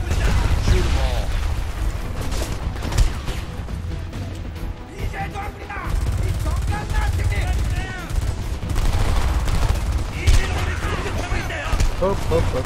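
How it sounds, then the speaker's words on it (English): Automatic gunfire in the Homefront video game, sustained bursts of shots with crashes and mechanical clatter over several seconds, loud and near, while people talk over the shooting. "Shoot them all."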